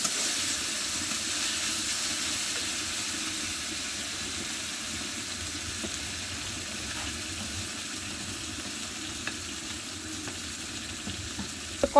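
Fish curry sautés in a pan with a steady, close, continuous sizzle and hiss, plus a few faint clicks near the end.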